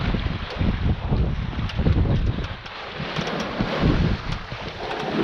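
A sailboat running under full sail in roughly 9-knot wind on a passage from Grimsby to Lowestoft: steady, loud wind buffeting the microphone over a continuous rush of water along the hull.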